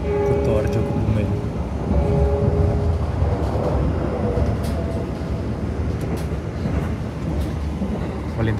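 A KA Argo Lawu passenger train rumbles through Gombong station in Kebumen, Indonesia, with a continuous rattling roar and faint clacking, filling the whole stretch at steady volume.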